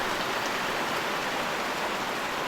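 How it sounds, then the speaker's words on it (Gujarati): Rain falling steadily outdoors under a sky heavy with dark clouds, a continuous hiss of drops on surfaces that holds even and close throughout before cutting off abruptly at the end. "જો વરસાદ ચાલુ થઈ ગયો ને મને લાગે આજે બી સારો વરસાદ પડી શકેરો"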